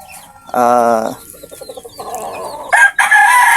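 A rooster crows loudly nearby, a long harmonic call, followed by clucking chickens and more crowing calls close at hand.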